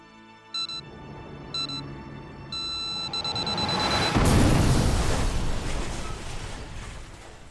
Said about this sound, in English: As the explosion tore through him